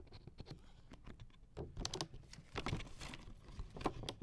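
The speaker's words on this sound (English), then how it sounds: "how does it sound if you cut plastic?" Plastic being cut close to a cheap Walmart microphone, a string of small crisp snips and crackles repeating irregularly throughout, fairly quiet and alone with no talk.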